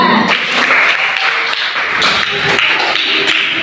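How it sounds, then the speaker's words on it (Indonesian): Primary school pupils in a sixth-grade classroom clap together, a dense, close burst of hand claps with sharp taps that continues steadily throughout. "Beri tepuk tangan sama kita."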